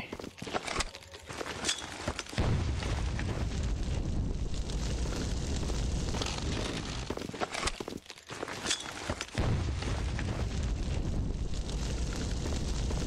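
Fire grenades burst and burn in the video game Heaven Dust 2, a loud continuous roaring blaze with crackling, broken by brief dips, close and dense throughout.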